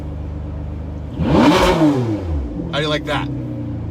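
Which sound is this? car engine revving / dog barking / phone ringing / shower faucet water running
car engine revving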